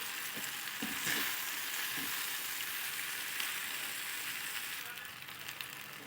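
Boiled pasta with chilli powder mixed in a hot pan, a continuous soft sizzle with a few scraping stirs near the start, close and fairly even throughout.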